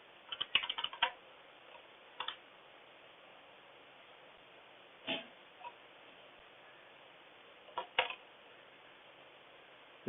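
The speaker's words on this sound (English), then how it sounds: "So here you can type the amount." Scattered keystrokes on a computer keyboard come in small clusters and lone taps over a steady hiss, faint and sparse, with long gaps between them.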